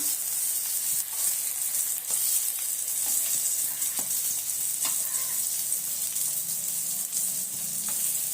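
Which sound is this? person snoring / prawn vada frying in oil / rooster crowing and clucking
prawn vada frying in oil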